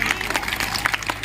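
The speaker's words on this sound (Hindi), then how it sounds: "इन लोगों के लिए जोरदार ताली हो जाए।" Brief applause from an audience at a Shri Ram Katha gathering in the Sangat Ji temple, Shahganj, Jaunpur: a quick patter of many hands clapping at moderate volume.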